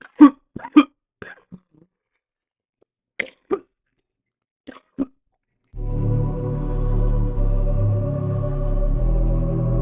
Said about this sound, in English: it sounds nasty whenever I cough like that because I have to like catch my breath